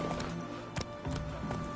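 Horse galloping in The Witcher 3 video game, a quick run of rhythmic hoofbeat thuds over a steady background bed, fairly faint.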